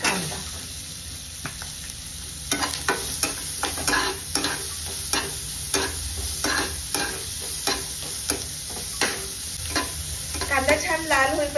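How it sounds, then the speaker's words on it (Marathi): Onion and green chili fry in hot oil with mustard seeds and cumin, a steady sizzle broken by repeated scraping stirs of a spatula against the pan, close and fairly loud with no talking. "कांदा छान लाल होईपर्यंत परतायचा आपल्याला"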